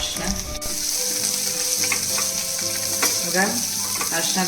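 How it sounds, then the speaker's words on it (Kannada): Onions frying in oil with curry leaves and a spoonful of asafoetida powder, a steady close sizzle with occasional stirring scrapes, no talking. "ಸ್ವಲ್ಪ ಈ ಥರ ಚೆನ್ನಾಗಿ ಫ್ರೈ ಮಾಡ್ಕೊಬೇಕು ಸ್ವಲ್ಪ ಕರ್ಬೇವಿನ ಸೊಪ್ಪು ಹಾಕ್ತಾಯಿದ್ದೀನಿ"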